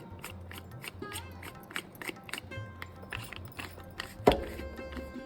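A murukku press filled three-quarters with butter murukku dough has its lid twisted shut, producing a series of close, dry ratcheting clicks and scrapes in an uneven rhythm, ending in a sharper knock, with no talking.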